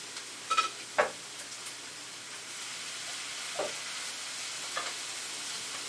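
Mushrooms cook in a pan with a soft, quiet sizzle, broken by a few scattered scrapes and taps from stirring, heard up close with no speech.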